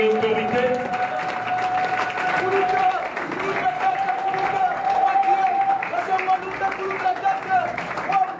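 Crowd applause at a formal gathering, steady dense clapping from many hands mixed with crowd babble and voices, running throughout at moderate loudness.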